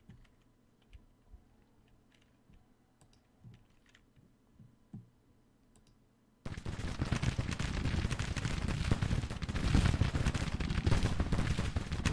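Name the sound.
artillery and rifle fire in the video game Grand Tactician: The Civil War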